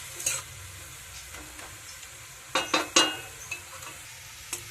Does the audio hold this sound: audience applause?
no